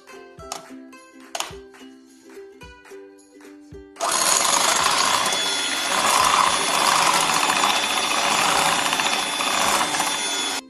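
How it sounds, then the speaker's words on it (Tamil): An electric hand beater whisks sponge cake batter made with corn flour. A few sparse clinks and taps come first, then the motor starts and runs as a loud, steady whir until the end. "நீங்கள் எலக்ட்ரிக் பீட்டர் யூஸ் பண்ணுறது தான் நல்லது."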